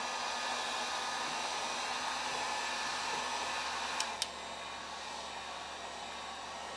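A hair dryer blows a steady, even whoosh, heating an original label on a Rainbow D2 power nozzle vacuum to soften it for peeling, with two small clicks near the end.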